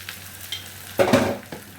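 Taro being stirred and fried in a pan, soft sizzling punctuated by a few scraping stirs, the loudest about midway, close and without talk.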